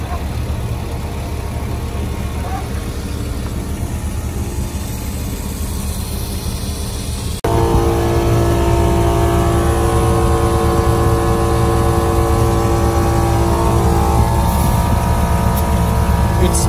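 An Iron Man Air Champ air compressor runs with a loud, steady motor drone and dense harmonic hum, stepping up to a heavier, fuller roar partway through and holding constant to the end.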